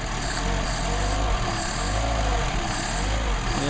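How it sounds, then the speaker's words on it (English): Mercedes 190SL with Solex carburetors running on a cold engine with choke applied, a steady close mechanical drone with a continuous high whine, no distinct cranking or catch. "We've got a cold engine and we're going to start them up"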